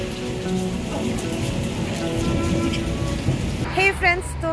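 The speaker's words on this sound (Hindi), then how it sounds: "थोड़ी हल्की हल्की हो रही है बारिश, ऐसा लग रहा है।" Light rain patters steadily on a surface on a cold evening in Lucknow, with deep thunder rumbling low throughout; near the end a few brief voices cut in over the rain.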